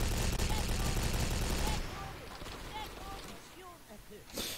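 Dense burst of rapid gunfire from the blocky Brickforce shooter game rattles for a couple of seconds, gives way to quieter scattered game sounds, then another short burst hits at the end.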